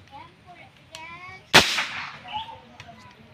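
A PVC pump-action toy gun fires once after four pumps, giving a sharp close pop midway, preceded by faint pumping and handling noises, with a brief voice nearby.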